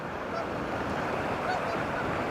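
Distant Canada geese honk faintly now and then over a constant wash of wind or rushing water in high country.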